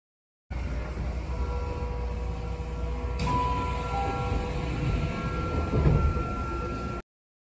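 A train at Ikebukuro terminal: a steady low rumble of the railcar with faint tonal hums and a sliding door sound, moderately loud and continuous.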